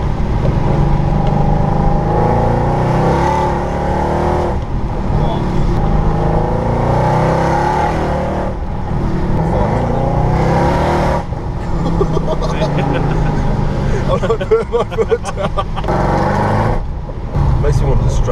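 A straight-piped, remapped Mercedes C63 AMG producing 562 bhp roars loudly and continuously at close range, its raw V8 note rising and falling through revs with crackling bursts, while people talk over it.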